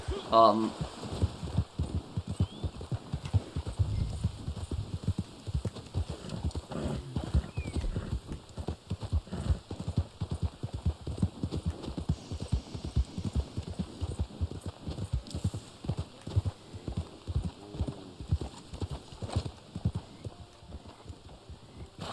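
Steady clip-clop of horse hooves trotting along in the video game Red Dead Online, close and continuous, with a low ambient hum underneath and a brief whinny-like sound early on.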